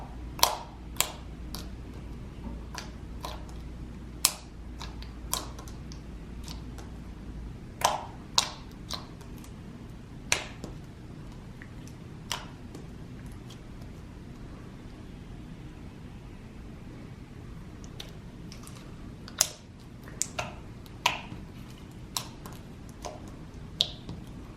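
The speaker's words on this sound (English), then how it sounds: "It is so nice, super glossy, so clicky." Glossy slime being squeezed and worked by hand, giving sharp, scattered clicks and pops spaced irregularly over a soft, quiet background hiss, with no talking.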